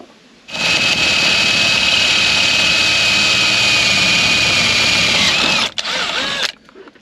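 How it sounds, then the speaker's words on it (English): A power drill bores a hole in metal on a VW LT van during a side door repair, widening it to about 7.5 mm for an 8 mm bolt. One loud, continuous high whine runs for about five seconds, then stops abruptly. "so I'm just going to drill another hole just above it"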